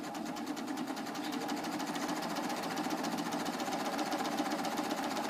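A Baby Lock serger runs continuously while stitching a quilted bag, producing a close, steady, rapid mechanical whir and chatter throughout with no pauses.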